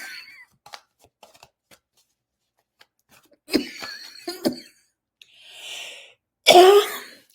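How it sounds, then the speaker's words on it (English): Several short, dry coughs in bursts separated by quiet gaps, close and fairly loud, with a few faint clicks in between. "It's a dry cough that comes up every so often."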